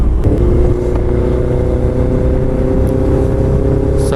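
A Honda CB400 motorcycle engine runs with a steady, loud low rumble and a slight stumble near the start, heard while riding in traffic, with no talking.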